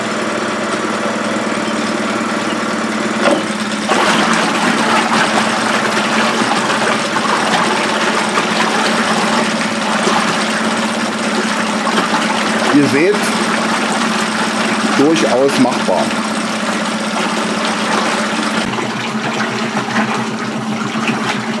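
A Tohatsu MFS 9.8 B outboard motor runs steadily in forward gear with its leg in a water barrel, a constant close engine drone with churning water, while someone speaks over it.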